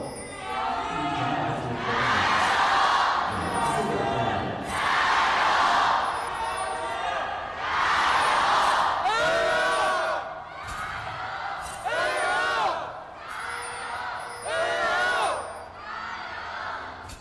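An esports arena crowd of AL and BLG fans cheers and whoops in loud swelling waves, with shouting chants rising and falling across the hall.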